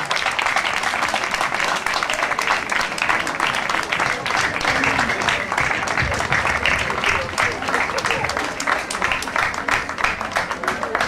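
An audience at a school graduation ceremony applauds to welcome a guest speaker, producing dense, continuous clapping that holds steady for about eleven seconds with some voices underneath.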